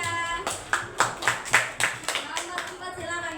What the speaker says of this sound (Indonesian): tepuk tangan buat Arisha.